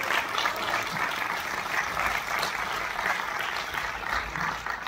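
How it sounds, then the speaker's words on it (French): Applause from the audience at the closing ceremony of the Fribourg International Film Festival, a sustained, even patter of many hands clapping at moderate volume, with a voice faintly underneath. "sous vos applaudissements"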